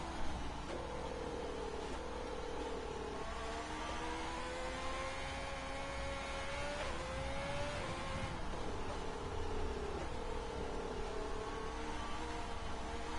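Formula 1 car engine in a racing video game at the French round, revving steadily with rising and falling pitch as it shifts through gears, loud and continuous with no talk over it.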